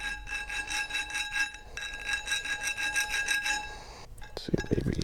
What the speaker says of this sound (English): So I'm using this triangle shaped file.